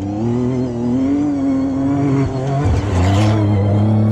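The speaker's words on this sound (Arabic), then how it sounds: "هاي السيارة بشكل سريع ناخذكم اكشن، تسمعوا صوت السيارة، تشوفوا ادائها." A Prodrive Hunter off-road car's engine revs loudly and steadily, with a low droning tone that dips briefly before surging again as it accelerates up close.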